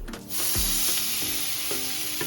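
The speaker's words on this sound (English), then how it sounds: "I'm just going to sear that off" A loud, hissing sizzle erupts as a rack of lamb hits a hot frying pan with olive oil and keeps searing steadily, with a few soft clanks.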